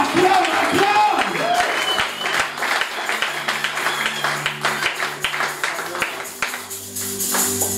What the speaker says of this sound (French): Est-ce que tu peux acclamer pour eux?